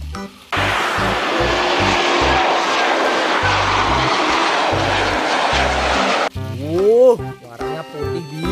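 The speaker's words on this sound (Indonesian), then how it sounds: "Wah, pesawat terbang teman-teman" A loud, roaring airplane engine rushes past for several seconds, then cuts off abruptly, followed by brief sweeping tones.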